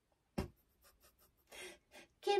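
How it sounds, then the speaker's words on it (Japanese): Piano keys are wiped with a wet tissue, giving a series of soft rubbing swipes and light taps, close and quiet, with pauses between strokes. "ウェットティッシュで拭いております"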